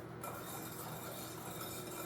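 Sugar being stirred into malassada (filhoses) dough in a bowl, a steady close scraping and rubbing texture that runs continuously with no talk.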